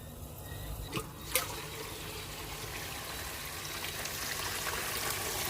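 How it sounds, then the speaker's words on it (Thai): Water flows out in a steady, fairly faint trickling stream, with a couple of brief splashy knocks near the start. "น้ำก็จะออกแบบนี้นะคะ"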